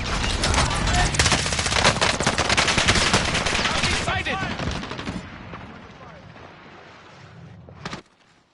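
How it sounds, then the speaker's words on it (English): Rapid automatic gunfire and bursts of shots in Call of Duty Warzone, Operation Monarch, loud and dense for several seconds before thinning out, with a final single crack near the end, under game chatter. "I have two people shooting me at the same time."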